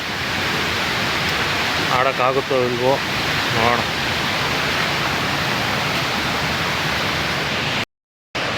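Mookanamane Abbi waterfall near Sakleshpur, Karnataka, pours down with great force, a loud, steady broadband roar of rushing water that never lets up, with a person speaking briefly over it before a sudden short cut.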